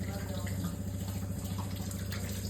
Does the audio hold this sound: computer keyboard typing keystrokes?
no